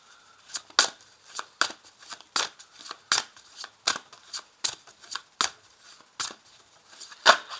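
Tarot cards are gathered and put away with a quick series of about a dozen crisp, close shuffling slaps in an uneven rhythm, alone in a quiet room.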